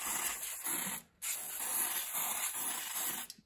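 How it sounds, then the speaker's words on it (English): Close, hissing bursts of spray from an aerosol can onto a ZR192 diesel engine to clear dust, three or four short blasts separated by brief pauses. "I like to spray this just to spray off the dust."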